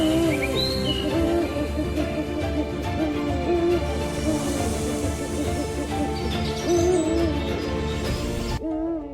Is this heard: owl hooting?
yes